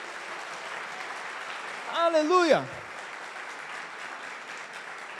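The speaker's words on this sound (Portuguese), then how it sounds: "dê um aplauso ao Senhor" A church congregation applauds in a steady, dense patter that runs beneath a preacher's voice, with a brief sung exclamation rising over it midway.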